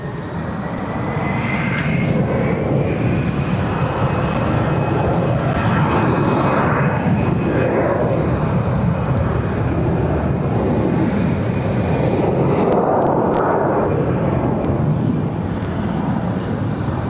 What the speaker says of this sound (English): Vueling A320 going to Nice